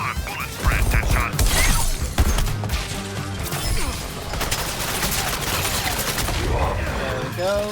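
Video game gunfire crackles in steady rapid bursts with crashing impacts and mechanical clatter, loud and continuous throughout, mixed with game sounds and voices.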